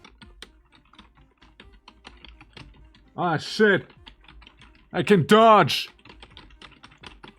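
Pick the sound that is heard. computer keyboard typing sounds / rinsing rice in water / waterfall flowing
computer keyboard typing sounds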